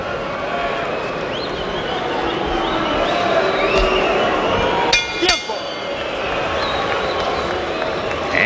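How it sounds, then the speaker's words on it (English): Restless arena crowd at a boxing match between Orlando Salido and Juan Manuel Marquez, a constant murmur of many voices with scattered shouts and a couple of sharp clinks midway. "as the crowd here gets restless"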